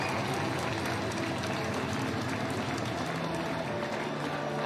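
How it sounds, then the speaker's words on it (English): Crowd noise at Braehead Arena during an ice hockey fight, a dense, loud roar of many voices and cheering sustained throughout with no break. "listen to the crowd at Braehead Arena."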